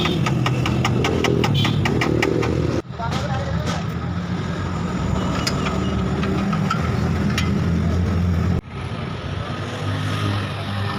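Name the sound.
motorcycle engine idling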